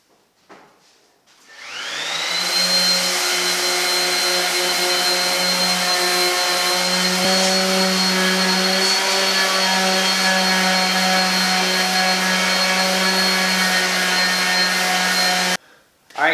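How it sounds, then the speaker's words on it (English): An orbital sander scuffs the body panel of a 1966 Ford F100 pickup that has been patched with Bondo. It runs as a loud, steady whine with a constant pitch and starts up after a brief pause. It holds for about thirteen seconds, then cuts off abruptly. "I went through and scuffed the entire thing with orbital"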